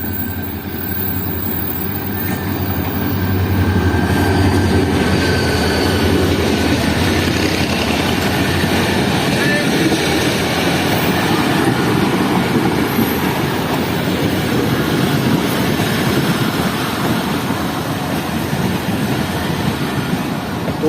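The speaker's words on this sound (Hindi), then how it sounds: "तो चलें ट्रेन आ रही है, उसे कैप्चर कर लेते हैं।" A train pulls into Drigh Road station on an evening railway platform, its locomotive engine rumbling with a heavy, steady drone and the rolling roar of carriages running continuously and loudly throughout.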